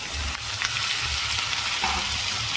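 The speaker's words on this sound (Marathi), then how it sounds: "चला आता आपण शिमला मिरची टाकून घेऊ।" Capsicum goes into a pan of frying potatoes, giving a steady close sizzle with faint stirring scrapes and no voices.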